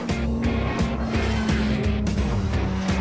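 A Lotus Exige and a Porsche race on a track, a steady loud engine drone with rhythmic pulsing and a sustained tone suggesting tyre squeal through corners, no voices heard.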